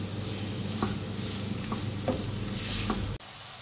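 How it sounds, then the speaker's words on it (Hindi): About 250 grams of onions fry in oil for minced-meat qeema, a loud continuous sizzle close up, with a spoon stirring through them in several light scrapes before the sound cuts briefly. "फ्राई करेंगे इसको। प्याज का लाइट गोल्डन ब्राउन कलर करूंगी मैं।"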